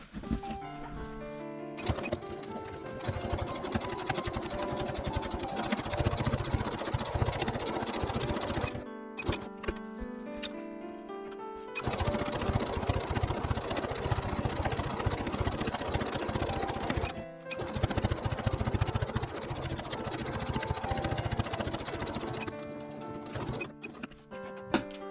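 Sewing machine stitching seams on a patchwork hexagon tote bag, a fast rhythmic clatter running steadily for long stretches with a few brief pauses.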